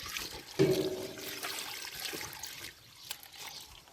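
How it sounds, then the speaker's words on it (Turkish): Liquid poured over a tuluk yogurt mixture, a brief splashing gush and then a soft trickle, heard close beside a moderate background. "Kalanı da üzerini döküyoruz. Dök hepsini dök."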